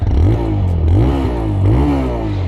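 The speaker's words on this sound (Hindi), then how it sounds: "राइडर की एक बात मुझे काफ़ी पसंद है, जो है इसका एग्जॉस्ट नोट।" A TVS Raider 125 motorcycle's exhaust note as the engine revs up and drops back in two loud, close rising and falling sweeps, with no talking.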